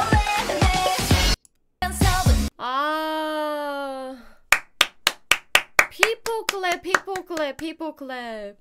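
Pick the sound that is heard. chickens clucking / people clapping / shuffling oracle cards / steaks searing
people clapping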